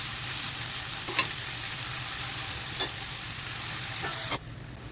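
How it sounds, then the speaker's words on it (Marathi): Chopped onion sautéing in a pan for dried fish chutney: a dense, steady sizzle fills the whole clip, broken by a few faint stirring scrapes, then drops off abruptly near the end. "छान कांदा छान आपल्याला गुलाबी रंग करेपर्यंत परतून घ्यायचा आहे आपल्याला"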